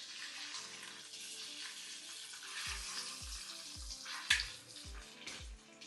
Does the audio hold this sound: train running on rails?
no